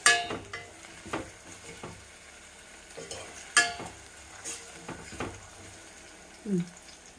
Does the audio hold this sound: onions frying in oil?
yes